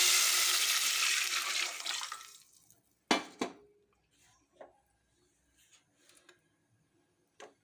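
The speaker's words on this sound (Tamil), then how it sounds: "புளி தண்ணி இருக்குல்ல, அதை ஊற்றிக்கலாம்." Tamarind water pours steadily into a pan for about two seconds and trails off, followed by a few sharp clinks and light taps.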